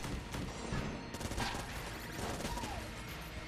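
Rapid Vulcan cannon gunfire rattles in the Enter the Gungeon video game, a dense continuous fusillade of shots under game effects, moderately loud with no talking.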